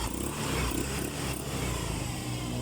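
Motorcycle engine revving hard, a steady loud drone with a dense low rumble that holds throughout with no talk over it.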